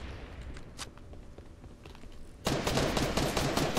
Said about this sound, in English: Now I'm getting shot at again?